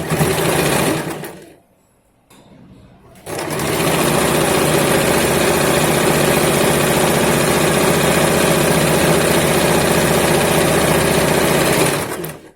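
Sewing machine running loud and steady while stitching a straight salwar, a brief pause after the first second, then continuous fast whirring until it stops near the end.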